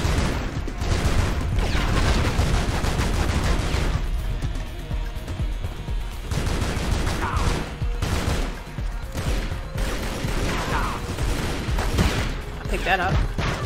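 Gunfire in the video game Tomb Raider Legend, a steady run of shots and crashing game effects over a dense action soundtrack, with a voice talking over it.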